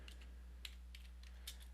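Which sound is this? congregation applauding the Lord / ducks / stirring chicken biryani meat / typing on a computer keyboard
typing on a computer keyboard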